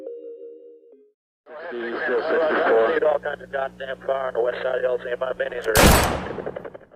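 Someone talks steadily, then one sharp, loud sound-effect gunshot cracks out near the end and rings briefly.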